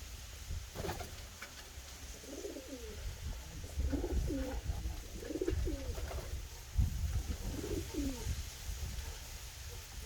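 A molting pigeon coos in several soft, rolling phrases at moderate distance over a low, steady background hum, with faint rustling between calls.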